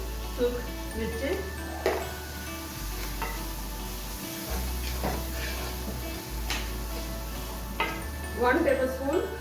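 Spices fry in a pan with turmeric and dried chili, a soft sizzle broken by occasional stirring scrapes and clinks while someone talks over it throughout.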